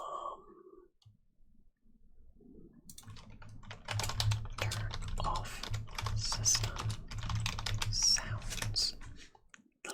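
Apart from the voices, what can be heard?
typing on a computer keyboard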